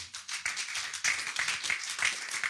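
A congregation at a church service claps together in a steady, dense burst of applause that holds through the whole stretch at close range.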